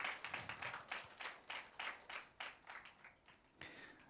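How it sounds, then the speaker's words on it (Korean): A church congregation at a Sunday service claps in a steady rhythm of repeated beats, heard faintly and fairly distant. "우리 하나님께 영광의 박수 올려드리겠습니다."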